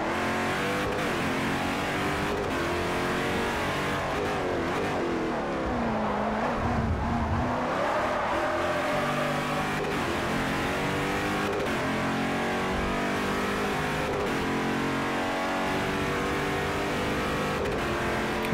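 An LMP2 prototype race car's engine in Forza Motorsport 4 screams steadily throughout a multi-class race, rising and falling through gear changes with other cars' engines audible alongside, loud and continuous without pause.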